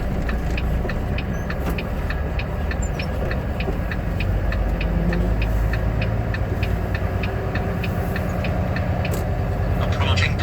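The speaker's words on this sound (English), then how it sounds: "I'm sure these houses love hearing this truck." A large truck drives through a town, its engine a loud, steady rumble with a rhythmic ticking clatter heard from inside the cab, running continuously throughout.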